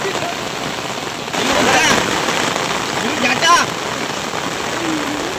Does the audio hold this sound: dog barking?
no